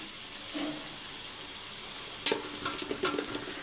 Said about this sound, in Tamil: வெங்காயம் வந்து பாதி வதங்கினா போதும்